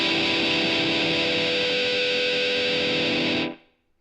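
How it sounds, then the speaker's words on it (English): An electric guitar played through a distortion pedal gives a thick, sustained, buzzing chord that rings loud and steady for about three and a half seconds, then cuts off sharply into silence. "there's already distortion that's already set on that pedal"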